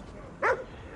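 A single short dog bark in the video game Ghostwire: Tokyo, one sharp close yelp over a quiet game background with no talk.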